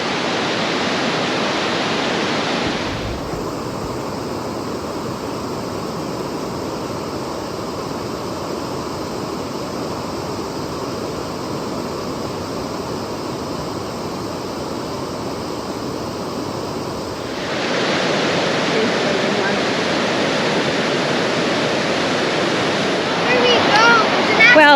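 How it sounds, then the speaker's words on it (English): Steady broadband rushing of a waterfall at close range from the top on a hike, a dense continuous roar that dips quieter midway and then swells back louder; no one talks. "I think we've made it to the top of the waterfall."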